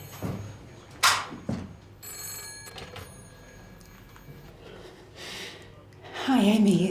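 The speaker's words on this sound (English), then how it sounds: "When the phone rings, pick it up." A telephone rings in a phone booth, one sharp ring near the start and a shorter one soon after, set against quiet room noise, with a voice speaking briefly near the end.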